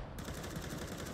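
Gunfire in Counter-Strike: Global Offensive, a dense, loud burst of rapid shots filling the whole moment with continuous crackling impacts and no voices.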